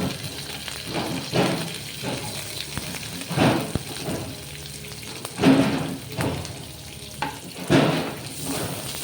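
Cumin, mustard seeds, urad dal, onions and curry leaves fry in hot oil, crackling and sizzling steadily with louder bursts of spitting every second or so.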